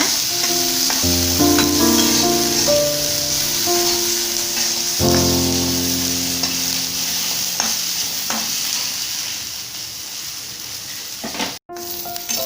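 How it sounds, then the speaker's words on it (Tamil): Small onions frying in a pan, a loud steady sizzle with occasional stirring scrapes, overlaid by intermittent background music tones. "சின்ன வெங்காயம் சேர்த்திக்கலாம். இப்போ இதை நல்லா வறுத்து எடுத்துக்கோங்க."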